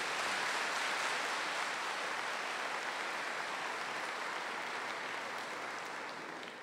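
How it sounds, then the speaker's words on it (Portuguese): Church congregation applause during a Catholic Mass led by Padre João Carlos, a steady dense wash of many hands clapping that stays loud and slowly fades toward the end. "Uma salva de palmas da nossa Mãe,"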